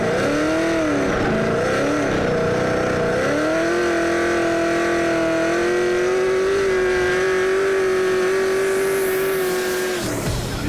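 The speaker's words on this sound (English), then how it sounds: "we're running a LS3 base block with a Magnuson supercharger. Makes about 800 horsepower" Drift car with a Magnuson-supercharged LS3 V8 making about 800 horsepower, its engine revving and holding a loud, sustained high-rpm drone with brief pitch dips at first, then a steady scream before cutting off near the end.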